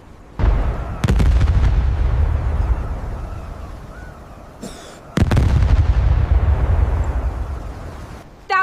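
Mortar rounds and gunfire crash down on Omaha Beach on D-Day in 1944, with two heavy booming explosions that roll away into rumble and sporadic sharper cracks in between, loud and close, with no talk.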